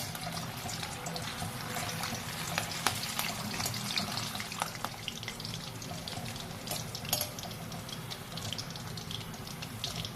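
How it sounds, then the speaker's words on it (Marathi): Green chillies frying lightly in hot oil beside onion pakoda preparation, with a continuous bright sizzle and crackle that holds steady at close range. "मिरच्या अगदी हलक्याशा तळून घ्यायच्या आहेत"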